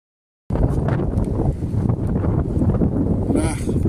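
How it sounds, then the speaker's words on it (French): Heavy wind buffeting a microphone on the coast of Brittany near Cancale, with a constant low rumble and roar, loud and steady throughout. "il y a beaucoup de vent, hein."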